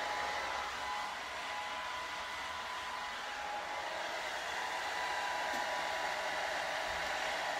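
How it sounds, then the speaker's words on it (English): Blow dryer set to mid speed and mid heat while drying hair, a steady close whooshing roar with a faint motor whine that holds constant throughout. "The setting is in the middle, the mid speed and the mid heat."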